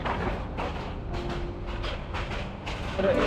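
Steady low rumble of a train rolling along the rails, heard from inside a chair-car coach, with faint rhythmic clatter and a broadband roar throughout.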